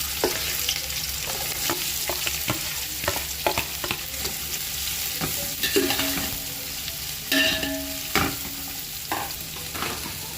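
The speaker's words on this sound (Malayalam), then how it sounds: "ഓണിയൻ നല്ല ചുവക്കുന്നത് വരെ നമുക്കൊന്ന് ഫ്രൈ ചെയ്തെടുക്കാം." Sliced onions fry in a pan for mushroom biryani, a steady close sizzle broken by repeated scrapes and clinks of a spoon stirring through the oil.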